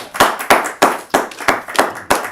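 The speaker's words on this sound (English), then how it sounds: "Y'all were clapping for her, right?" A few people clap at a Tuscaloosa administration committee meeting: about eight sharp, evenly spaced claps ring out close and loud, with no talking over them.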